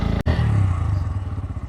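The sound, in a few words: stunt motorcycle engine starting and running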